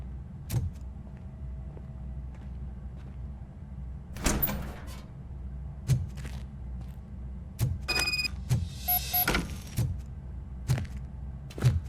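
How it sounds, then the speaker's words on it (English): A door opens in RoboCop Rogue City with a mechanical slide, whirr and creak amid faint thumps and clicks over a low, steady background hum. "Now let me get that door open for you."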